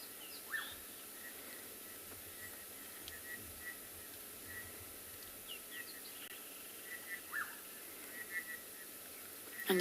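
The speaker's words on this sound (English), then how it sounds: "you can see the birds are all still calling" Birds calling at dusk in light drizzle on a safari, scattered chirps and short whistles at moderate distance over a steady hissing background, with faint insect buzz and a low rumble beneath.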